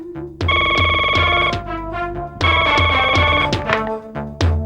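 A telephone rings with a bright, repeating electronic ringtone in two clear bursts, loud and close, with no one speaking over it.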